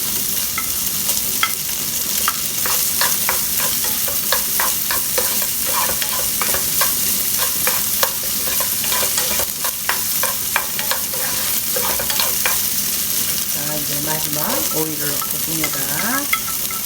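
Crab sticks stir-fried in a hot pan with carrot, a steady sizzle broken by rhythmic scraping of the utensil against the pan, with a short spoken phrase near the end.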